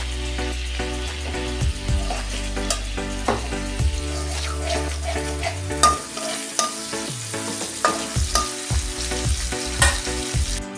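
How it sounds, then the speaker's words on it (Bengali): Black cumin seeds crackle and sizzle in hot oil for a tempering, stirred with a spatula that gives repeated scraping knocks over a continuous close fry. "তেলের মধ্যে অল্প কালো জিরে দিচ্ছি তারপর ফোড়নটাকে ভালো মতো নেড়ে নিচ্ছি"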